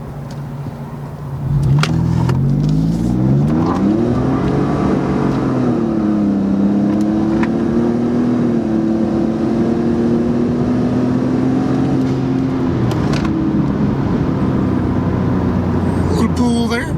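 2018 Ford F150 pickup accelerating hard from a standstill, heard loud from inside the cab as a deep, steadily rising engine roar that climbs and holds strong through the run, with a few brief voices over it.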